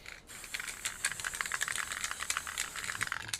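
Army Painter Fur Brown is sprayed onto a tabletop model in quick, rhythmic bursts of airy hiss with faint rattling between them, close and fairly quiet, with no talking.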